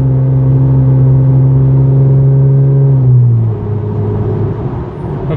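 A Pontiac G8 engine with a K&N cold air intake drones steadily as the car accelerates up to speed, its pitch holding then shifting downward as it settles, with road rumble continuing underneath.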